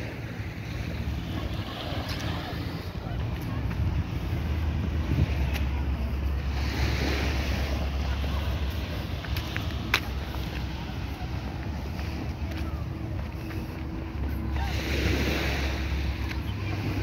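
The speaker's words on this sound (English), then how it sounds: "So I'm walking along Brighton Beach." Waves rolling onto Brighton Beach on the west coast of Barbados, a steady surf wash with wind buffeting the microphone while walking along the shore, swells rising and falling throughout.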